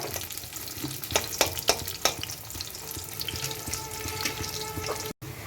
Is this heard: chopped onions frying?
yes